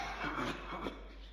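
A faint, brief cough from a Minecraft music disc, a short muffled burst of coughing heard alone in an eerie, quiet game recording.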